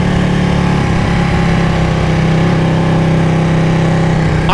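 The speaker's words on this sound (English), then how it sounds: "I can't believe this is a stock exhaust. It's so loud." A Ducati Panigale 1199 motorcycle with its stock exhaust runs loud and close, a steady droning engine note that holds throughout without pause.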